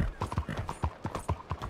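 Horse hooves clip-clop at a steady walking rhythm in the video game Red Dead Redemption 2, a dozen close, even thuds with faint ambience between.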